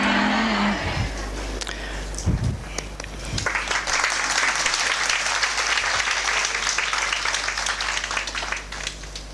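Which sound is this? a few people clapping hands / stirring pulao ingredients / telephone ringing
a few people clapping hands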